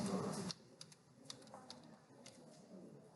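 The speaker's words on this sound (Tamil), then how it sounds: "ராஸ்பெரி பை அப்படின்னு டைப் பண்ணுங்க." Keys clack on a computer keyboard as a device name is typed during an Azure IoT Hub setup. The clicks are quick and irregular, faint and close, after a brief burst of noise at the start.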